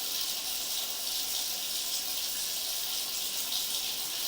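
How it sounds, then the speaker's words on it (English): Water poured into a sewer drain line with root intrusion, a steady hissing rush that runs evenly and continuously throughout, close and alone without talking. "So we're going to run some water down"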